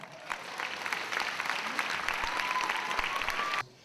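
A stage audience applauds as a guest co-host walks on for an evening event, a steady wash of many hands clapping that cuts off abruptly just before the end.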